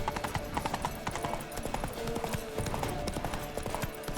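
Rapid clip-clop of horse hooves at a steady trot in The Witcher 3 Next Gen, close and continuous, with other low game sounds underneath.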